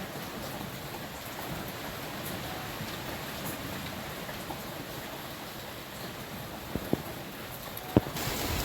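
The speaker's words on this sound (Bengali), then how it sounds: "এই এখন যে ঘন্টা দুই ধরে যে বৃষ্টিটা হলো এটা বোধ সেরা বৃষ্টি একেবারে প্রবল বৃষ্টি ভারী থেকে অতি ভারী বৃষ্টি যাকে বলে" Heavy monsoon rain pours steadily in the Sundarbans, a dense even hiss of downpour throughout with a few sharp, close drips near the end; no voices.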